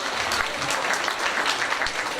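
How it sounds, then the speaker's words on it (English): An audience at an anniversary gala claps for teachers in a steady, moderately loud patter of many hands, with no voices heard over it. "Go ahead and clap."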